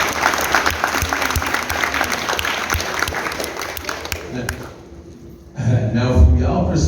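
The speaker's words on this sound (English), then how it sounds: "Can we clap it up for the college kids?" A crowd at a job fair claps for college students, a dense burst of applause that fades after several seconds, followed by close, loud speech.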